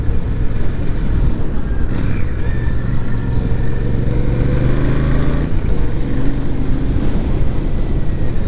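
A Royal Enfield Super Meteor 650 twin-cylinder motorcycle climbs uphill, its steady, loud engine drone mixed with heavy wind rush for several seconds, with no talking.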